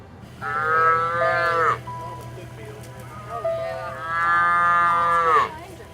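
Two long, loud cattle moos on a ranch, one after another with a short pause between, close by over a low steady rumble.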